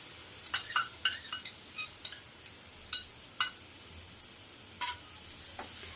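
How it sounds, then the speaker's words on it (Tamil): Ground onion paste sautés in a pan for egg gravy, a faint steady sizzle broken by irregular spoon scrapes and light clinks against the pan. "வெங்காயத்தை நல்லா வதக்கி விட்டுறலாம்."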